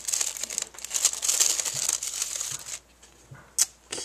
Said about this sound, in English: I'll use some real scissors.